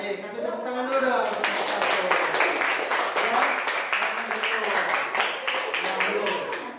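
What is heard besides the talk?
audience clapping hands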